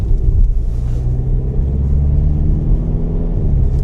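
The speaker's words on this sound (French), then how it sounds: "je vais accélérer juste là" A Peugeot 3008 with a 1.5 BlueHDi diesel engine and EAT8 automatic gearbox accelerates, giving a steady, close, low engine rumble from inside the car with no talk.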